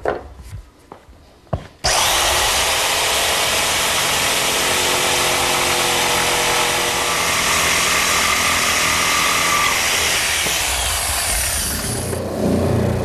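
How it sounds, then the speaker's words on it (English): A handheld electric jigsaw cuts through a wooden panel for a linen press cabinet, a loud steady buzzing rasp running continuously for about ten seconds after a few brief knocks, then stopping near the end. "I'm going to actually just use a handheld jigsaw to make the cut"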